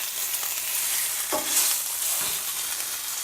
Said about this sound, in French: je fais griller mon gras comme ça